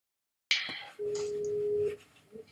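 Telephone ringback tone on a call line, a single steady electronic tone lasting about a second after a short burst of noise, fairly faint.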